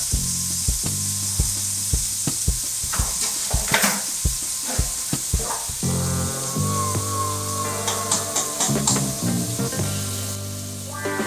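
White Castle sliders cook four at a time on a griddle, giving a steady close sizzle with scraping and tapping from a spatula. No one speaks, and a tonal hum runs underneath.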